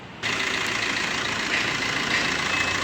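A 2016 Tata Bolt XE Quadrajet engine idles steadily at close range, a constant low rumbling hum with no talking.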